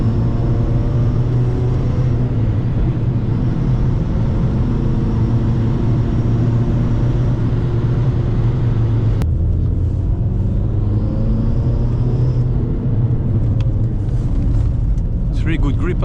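A SEAT Ibiza Cupra TDI diesel accelerates hard as the turbo builds boost, a loud continuous engine drone with rising harmonics, cut briefly by a shift before pulling again.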